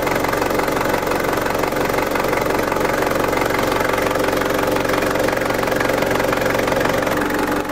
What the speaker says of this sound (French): J'ai démarré le Ranger pour voir.